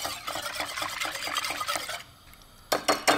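A mixture being whisked briskly in a bowl, a rapid rhythmic scraping patter close up for two seconds, a brief pause, then a few more strong strokes.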